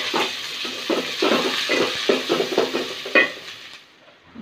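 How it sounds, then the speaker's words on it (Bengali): Chopped onions fry in oil with bay leaf, cinnamon and cardamom, sizzling under a series of scraping stirs with a spatula, the sizzle fading away near the end. "এখন দিয়ে দিলাম পেঁয়াজ কুচি, পেঁয়াজটাকে ব্রাউন করে ভেজে নিতে হবে"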